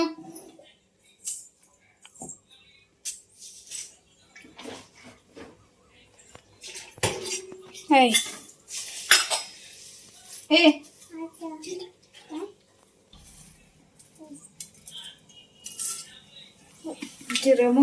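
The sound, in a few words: metal containers and utensils being handled in the kitchen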